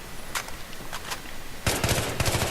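Automatic rifle fire from Battlefield 3, a 900 rounds per minute weapon: a few short isolated bursts give way to a loud, rapid, sustained volley of gunshots near the end.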